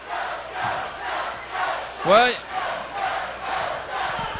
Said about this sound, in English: A curious mixture of boos and cheers here now between the pro Joes and the no Joes